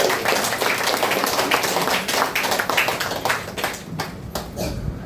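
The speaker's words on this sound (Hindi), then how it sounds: "फिर से जोरदार ताली बजाएंगे।" An audience at a DXN sharing event in Malangawa, Nepal claps enthusiastically in a dense burst of applause that gradually thins out toward the end.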